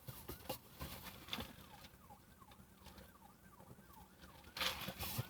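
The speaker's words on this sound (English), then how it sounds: "And unfortunately, there's those sirens." Emergency vehicle siren wailing faintly in the distance outdoors, a rising-and-falling tone repeating through the middle of the clip before a louder burst of nearby noise at the end.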